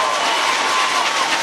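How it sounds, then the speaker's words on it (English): Football fans applauding from the far side of a stadium at a regional high school championship game, Howe Bulldogs against Waskom Wildcats, a steady hiss of distant clapping and crowd noise throughout. "Big round of applause from the Bulldog fans on the far side"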